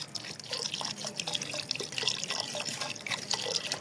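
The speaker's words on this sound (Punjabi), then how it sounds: "ਪਾਣੀ ਪਾ ਦਿੱਤਾ।" Water pours and trickles into a pot while raw mango chutney is being prepared at home, a close, busy stream of small splashes and drips that runs throughout.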